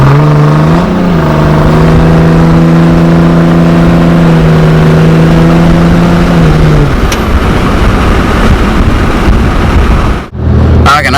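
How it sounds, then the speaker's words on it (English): A Dodge Ram with a Cummins engine revs hard and holds high while its tires spin, a loud close whining drone that rises, sustains, then breaks off into rough rumbling and a short drop near the end. "this truck doesn't gain much traction. I mean, it's just all spin"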